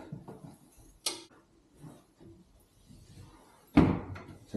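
A SlimLux sliding mirror door rolls along its track in a hallway and knocks to a stop, with a sharp click early and a louder thud near the end amid quiet rumbling.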